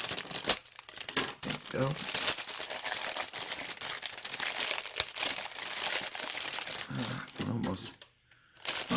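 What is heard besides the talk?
cutting open air purifier filter packaging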